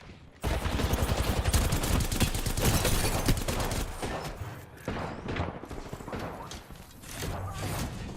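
Rapid automatic gunfire in the Apex Legends video game, a loud dense stream of shots with brief pauses and a short resumed burst near the end.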